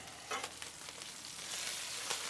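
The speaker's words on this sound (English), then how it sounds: "Let's give these burgers a little flip and start chopping." Burgers sizzling on a hot cooktop right after being flipped, a steady close crackling fry with a few sharper spatters, heard alone without talk.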